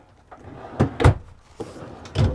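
Dresser drawers in a 2021 Grand Design Reflection 315 RLTS travel trailer are opened and shut in quick succession, several short close wooden thumps and sliding knocks within a couple of seconds.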